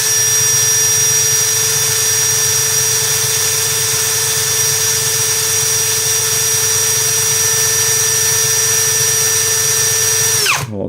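A compact DEVETECH CS-45 cordless screwdriver runs at its second speed with a steady high-pitched motor whine and gear hum, loud and close, holding an even tone for about ten seconds before it abruptly stops.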